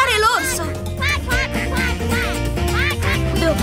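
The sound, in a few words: cartoon duck quacking loudly to scare a bear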